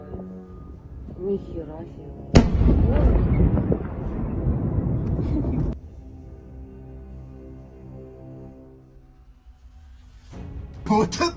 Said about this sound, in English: A huge explosion completely destroyed the enemy's UAV control center.